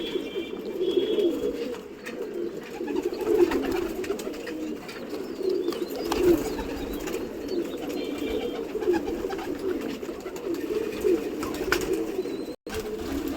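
Pigeons, including a white female, coo continuously in a low, throaty, rolling rhythm, with soft repeated calls at moderate loudness and faint background rustling.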